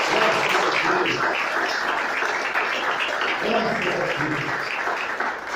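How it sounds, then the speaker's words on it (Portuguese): A church congregation applauds together during a sermon about the temple, a steady wash of clapping and cheering that fills the room, with voices calling out beneath it. "Vamos aplaudir o Senhor."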